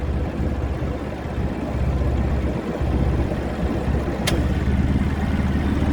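A John Deere 345 tractor engine with a snow blower attached runs at a steady idle, a continuous close drone with no talking.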